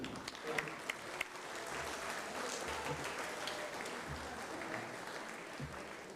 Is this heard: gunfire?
no